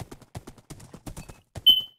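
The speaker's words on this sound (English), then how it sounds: "You can't get a better horse." Hooves clip-clop in quick, steady beats as a horse is ridden across open ground in a Minecraft-style hardcore survival game, a short whistling tone rising near the end.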